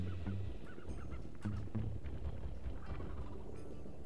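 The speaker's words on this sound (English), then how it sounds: "Ah, ducks." Ducks in the video game Sly 2: Band of Thieves give a few short, honking quacks in quick bursts over a low, busy game soundscape, moderately faint and without speech.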